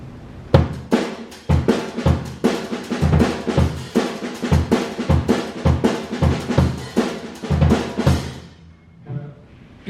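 A drum kit with compressed dynamics plays a steady, tight groove with evenly weighted kick, snare and hi-hat hits, ending with a short fade.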